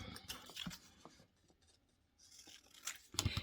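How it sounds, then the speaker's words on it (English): Scissors cutting through a sublimation wrap for a pen, a few quiet close snips and rustles spaced out over a few seconds. "So I'm just going to cut it right there."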